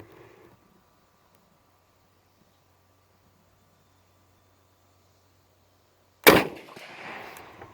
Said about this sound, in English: That's a pretty good shooting rifle right there